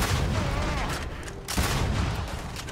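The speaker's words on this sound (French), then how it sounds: "Ah, ça lance grenade!" A grenade launcher fires and explodes in the video game Starfield, making dense, continuous booming blasts with a brief dip partway through, loud over a noisy game soundscape.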